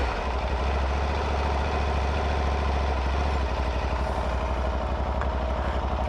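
An Aprilia Tuareg 660 motorcycle idles close by with a steady, throbbing low engine pulse, loud and unbroken with no voices over it.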